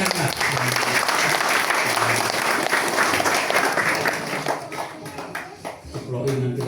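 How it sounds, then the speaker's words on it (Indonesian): Church congregation applauding at an outdoor Indonesian parish celebration after Mass, a dense burst of clapping that swells then tapers off over several seconds, with a low voice and music faintly underneath. "Tepuk tangan, Pak."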